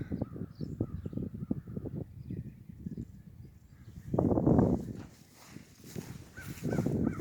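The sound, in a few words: birds around the barn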